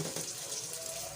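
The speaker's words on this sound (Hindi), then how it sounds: "वाटर ऐड किया इसमें।" A cup of water is poured into a hot pan of frying chicken drumsticks, giving a brief, fairly quiet rushing splash and hiss that continues evenly for about a second.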